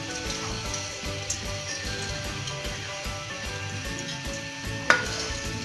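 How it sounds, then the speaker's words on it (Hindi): Chicken and ginger garlic paste frying in a cup of oil in a wok on the stove, giving a steady, moderate sizzle throughout with one brief sharp clink near the end. "इसको हल्का सा हम भून लेंगे।"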